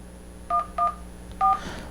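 Three short dual-tone beeps of a phone keypad, the first two close together and the third after a pause, clear over a quiet room hum.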